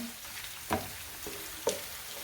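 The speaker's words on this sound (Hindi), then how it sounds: "इसको भी हम हल्का सा भून के गोल्डन कर लेंगे" Ginger garlic paste sizzles in hot oil at close range, with a steady low crackle broken by two sharp stirring scrapes, as the base for a modern-style sarson ka saag.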